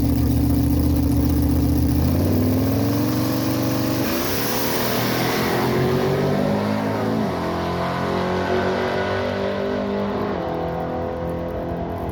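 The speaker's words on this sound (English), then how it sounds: "Big block Bob Ruppel in the right lane." Naturally aspirated 496 big block Nova drag race car engine, loud and close, revving with pitch sweeping up through several gear changes before the steady roar eases off.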